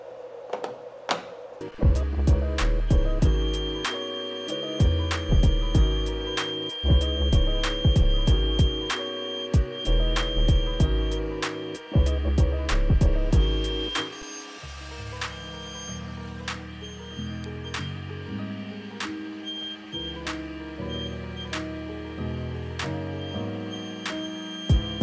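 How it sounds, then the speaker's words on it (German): A CNC milling machine makes its first milling pass, with stepper motors whining at shifting pitches in stop-and-start bursts and a steady machine hum underneath. "Der erste Fräsdurchgang ist fertig."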